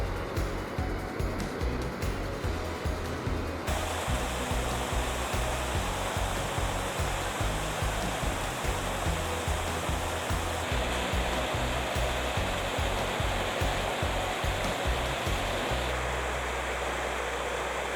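Steady broadband rush of a clear mountain stream in Gayasan National Park, continuous and fairly loud, running over rocks, with no voices.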